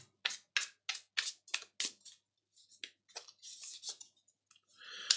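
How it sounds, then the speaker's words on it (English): Tarot cards shuffled by hand: a series of sharp, close snaps and riffles in a regular rhythm, then softer, scattered rustling and flicks near the end. "One more shuffle."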